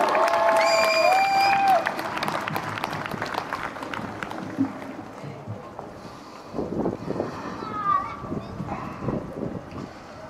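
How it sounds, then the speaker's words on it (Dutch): An audience claps and cheers for poet Dean Bowen as he is welcomed onto a stage, a loud burst of crowd applause with a brief whistle early on that thins into scattered clapping and murmurs. "Geef hem een groot applaus."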